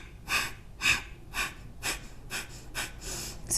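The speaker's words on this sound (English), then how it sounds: "if you're just focusing on breathing out forcefully through the nose, then your inhale will kind of happen naturally" Forceful nasal exhalations during a yoga breathing exercise come as eight sharp, evenly spaced puffs through the nose, close and clear with no talk.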